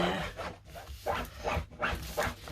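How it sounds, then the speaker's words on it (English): Dogs shuffle about indoors as one scratches and paws at her bed, with repeated bursts of rustling and scrabbling spaced about half a second apart, close by and moderately loud. "Crazy dogs"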